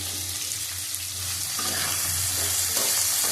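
Green chilies, potato and radish sizzle steadily in hot oil in a pan, a continuous close frying hiss with a low hum beneath and a slight rise in intensity partway through.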